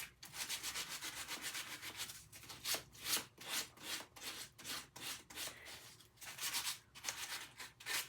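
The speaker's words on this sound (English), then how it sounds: "I'm sanding while I'm doing this." Steady back-and-forth scratchy rubbing of sandpaper on wood by hand, close and fairly quiet, with a repeating stroke rhythm and no voices.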